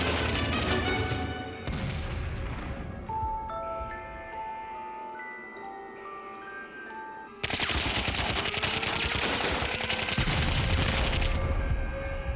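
Dense bursts of rapid gunfire in an animated TV show crackle loudly, fade behind tonal music for several seconds, then return as a sustained heavy barrage.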